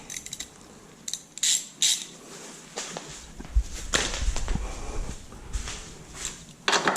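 A ratchet with a 14 mm socket loosens coilover bolts on an R32 Skyline, giving bursts of clicking pawl sounds and metallic clanks, close and loud, with no talk.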